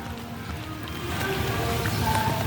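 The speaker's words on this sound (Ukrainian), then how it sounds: "Краплинки дощику." Rain falling steadily in a park as light droplets patter in a continuous soft hiss, with faint music in the distance.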